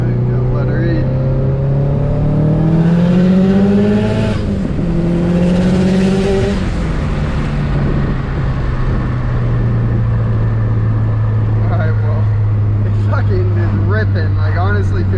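A 400 whp Subaru WRX accelerating hard, its engine climbing through rising revs in successive gear pulls, then settling to a steady drone as someone talks from inside the car, close and loud.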